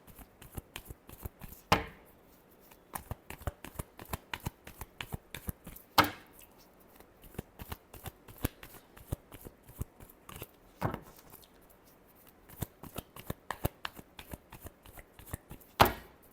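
Tarot cards are shuffled by hand in quiet, repeated riffles and taps, with occasional sharper snaps as the deck is squared, soft and close with no voices.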